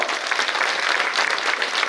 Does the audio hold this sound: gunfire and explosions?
no